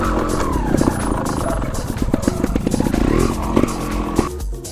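A trial motorcycle popping wheelies on light throttle blips, its engine buzzing and revving in short bursts, close and loud throughout, with brief surges of acceleration.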